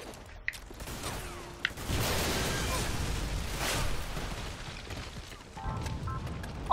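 A grenade blast in the shooter Bodycount rumbles loudly through the middle, a broad booming crash amid scattered gunfire clicks and pings, swelling then fading with battle noise continuing.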